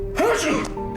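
A single short, sharp sneeze from a character in the Alan Wake video game, close and loud over a faint hum of in-game ambience.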